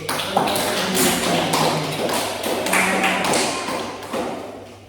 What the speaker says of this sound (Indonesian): Terima kasih, aplaus dulu